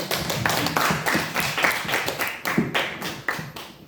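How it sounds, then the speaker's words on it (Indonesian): At a junior high school student council candidate debate, an audience claps for a candidate, an uneven but fairly rhythmic patter of many hands in a room, moderately loud and continuous. "Tepuk tangan sekalian"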